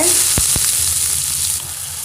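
Onions hit hot oil with popping mustard seeds in a pan for beetroot poriyal, a loud, close, steady sizzle broken by two quick stirring knocks early on.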